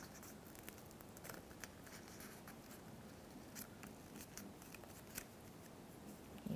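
Craft scissors snip through folded layers of wafer paper for cake-decorating leaves, giving a steady run of crisp, close cutting and rustling sounds with no voices.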